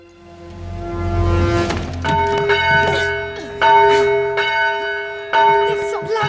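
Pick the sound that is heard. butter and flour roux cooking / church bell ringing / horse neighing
church bell ringing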